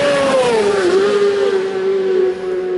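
Racing motorcycles at the Manx Grand Prix scream past at full speed, their engine notes loud and close with a steady high whine that drops slightly as they pass, with no talking.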